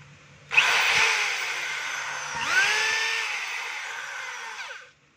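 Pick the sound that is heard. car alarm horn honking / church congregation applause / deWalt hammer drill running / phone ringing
deWalt hammer drill running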